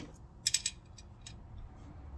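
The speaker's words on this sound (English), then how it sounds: "So, they come with a couple screws. Take these guys out." Small screws are backed out of a Delorean Industries fuel injector clip, producing a quick cluster of three sharp metallic ticks and clicks up close, then a fainter click, against a quiet background with no speech.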